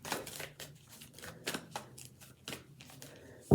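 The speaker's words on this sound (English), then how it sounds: "So we got some tarot cards here." A deck of tarot cards is shuffled by hand in quick riffling bursts and soft slaps, close and fairly quiet, ending with a sharp knock.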